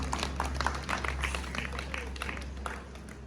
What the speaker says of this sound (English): Keep the applause going as she elegantly walks the carpet to the phone.